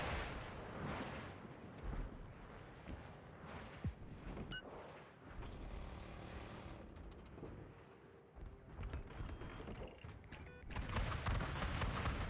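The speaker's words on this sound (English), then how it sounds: "Fire rockets." Rockets fired in a combat video game, heard as repeated booming launches and explosions amid dense, continuous battle noise, with no clear talk over them.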